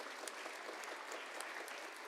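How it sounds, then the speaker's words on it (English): Audience at a formal event applauds dignitaries seated on the dais, a steady wash of many hands clapping at moderate distance throughout, with no talk over it. "give a great lot of applause to the wonderful dignitaries on the"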